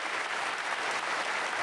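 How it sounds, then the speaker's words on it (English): Audience applause at a professional snooker final, the Welsh Open, steady and fairly close, filling the short span as a dense, even patter of clapping after a safety shot. "And a generous round of applause for that shot."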